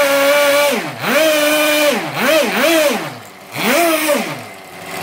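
A small engine revs up and down repeatedly in rising, falling whines, close and loud, with no one talking.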